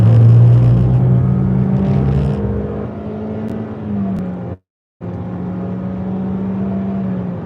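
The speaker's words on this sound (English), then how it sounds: "And these fucking trucks, man." Heavy road traffic rumbles past a moving car on a busy highway near Pittsburgh, with trucks roaring by fast; a loud, steady drone of engines and tires with one brief dropout midway.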